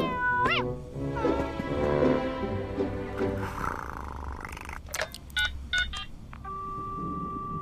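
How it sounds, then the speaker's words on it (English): A cat meows and purrs close by, followed by a quick series of distinct touch-tone beeps as a phone number is dialed, then a steady tone. "I'd better phone and let him know Jess is safe"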